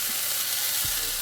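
Birria tacos fry in a hot pan with a loud, steady sizzle and hiss that holds unbroken throughout, close up and alone.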